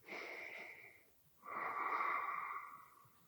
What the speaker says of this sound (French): Votre Ujjayi Pranayama.